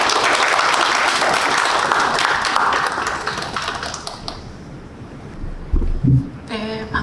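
A crowd applauds warmly at a literary award ceremony, the dense, loud clapping holding steady for several seconds before thinning and dying away, with a brief voice and some handling noise near the end.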